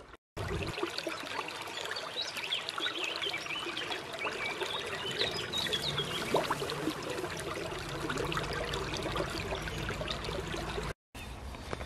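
Water trickling and babbling in a cold creek outdoors, a continuous close-up gurgle that runs steadily throughout with no talk over it.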